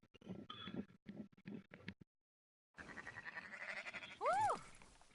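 Sheep bleating in the Red Dead Redemption 2 game world: a short run of bleats and low rustle, a brief silence, then a louder wavering bleat standing out clearly near the end.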